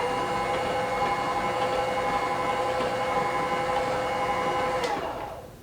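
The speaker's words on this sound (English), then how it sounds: "This is the sound of the Amazon juicer, the Canoly." A Canoly Max juicer motor runs with a steady, droning mechanical hum carrying a higher whine, fairly loud and constant, then winds down and fades near the end.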